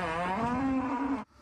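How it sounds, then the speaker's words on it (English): Cow giving a single long moo, loud and close, rising slightly in pitch before cutting off abruptly into quiet. "Why is there a cow on the roof?"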